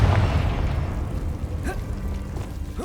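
A Confringo fire spell in Hogwarts Legacy goes off as a loud, rumbling blast with a brief whooshing tail, followed by softer game effects.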